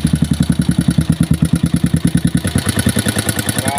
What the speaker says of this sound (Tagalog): Ito yung makina ni Sir, yung andar.